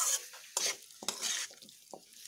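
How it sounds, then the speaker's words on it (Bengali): Jackfruit seed curry with spices and salt being sautéed in a pan, heard as intermittent scraping stirs and soft sizzle bursts with quiet gaps between them, close by. "মশলাগুলো সহ নুন সব দিয়ে এখন একটু ভালোভাবে একটু কষিয়ে নেব"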